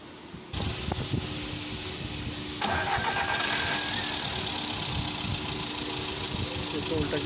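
A Volkswagen Vento or Skoda Rapid petrol engine cranks and catches after a brief quiet moment, then settles into a steady, loud idle close by in a workshop, with voices talking over the running engine.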